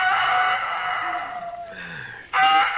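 A rooster crows once, a loud drawn-out call close by that stops, then starts again on a fresh bright burst, with no talk over it.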